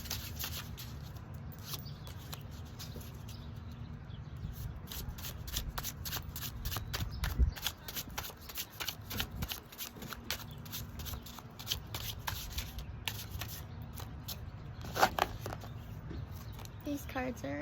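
Slippery tarot cards are shuffled by hand in close, rapid, repeated riffles and slides, steady and fairly quiet, with a soft voice faintly present.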